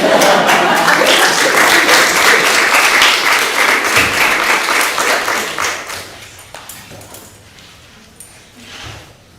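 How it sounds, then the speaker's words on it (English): Audience clapping at a university symposium, a dense burst of applause that holds steady for several seconds, then thins out into a few scattered claps and faint room sounds. "I was getting ready to clap."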